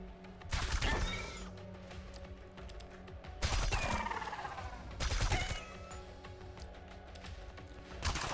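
Turrets in Reverse Collapse open up in three sharp salvos of gunfire, each a loud crackling burst about two seconds apart over a steady low battle hum.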